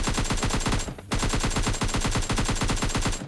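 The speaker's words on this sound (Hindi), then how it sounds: "और लास्ट वाला शॉट इस बंदे के हेड पे लगता है" Automatic gunfire from the mobile shooter game PUBG Mobile Lite rattles in rapid, loud, continuous bursts, broken once by a brief pause, with no speech.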